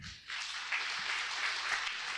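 A church congregation applauds loudly and steadily during a worship service, a dense wash of clapping that starts after a brief quiet moment and carries on evenly to the end.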